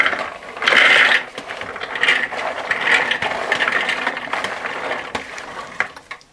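Chickpeas are chopped in a chopper to make falafel, giving a dense, continuous mechanical rattling and clattering that stays fairly loud and steady throughout, with a louder burst near the start.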